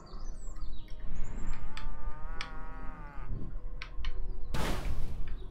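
A cow moos from the Destroy All Humans video game, an exploding cow, one long harmonic bellow that rises and falls over a few seconds, with brief chirps before it and a loud burst of noise at the end.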